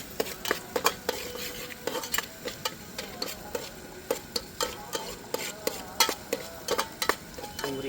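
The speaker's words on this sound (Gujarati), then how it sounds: "ડુંગળી સરખી કકડવા દેવાની લાલ." Onions fry in a pan as a spoon stirs and scrapes them, producing frequent sharp metallic clinks in an uneven rhythm over a soft, continuous sizzle, close and fairly loud.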